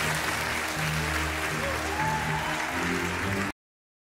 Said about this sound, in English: Please give her the warm round of applause.